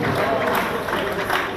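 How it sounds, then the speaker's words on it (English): Applause from a crowd at a book launch, a brief, dense wash of clapping and crowd noise, loud and close, with voices mixed in. "A lot of applause for that."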